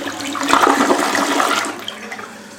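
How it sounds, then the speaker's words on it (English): A Kohler Santa Rosa one-piece elongated toilet flushes loudly and close by, a steady rushing swirl of water that builds quickly and then slowly tapers off over a few seconds, with no talking. "And now this is how it looks like when you flush."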